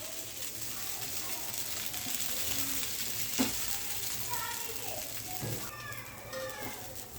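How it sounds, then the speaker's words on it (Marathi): Oats dosa sizzling on a hot pan, a steady close frying hiss throughout with a faint clatter as it is flipped, while a voice speaks over it. "आता डोसा पलटी करायचा।"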